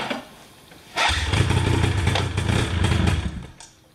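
A 2001 Ski-Doo MXZ 800 snowmobile engine cranks, then catches with a sudden loud roar and runs roughly for about two and a half seconds before dying away, close by with no talk.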